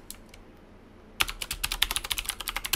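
Typing on a computer keyboard while entering a new password during Raspberry Pi setup: after a second of near silence, a rapid run of close, crisp key clicks continues to the end.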